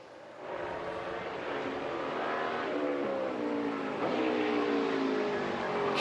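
NASCAR Xfinity race cars lapping Road America during qualifying, a continuous loud engine roar with shifting pitch as cars run past, heard from a distance.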